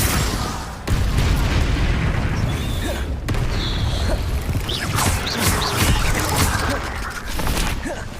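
Spell blasts cast in the Hogwarts Legacy video game: a dense, continuous barrage of loud booming impacts and crackling bursts, layered over each other with a few sharp cuts in the sound.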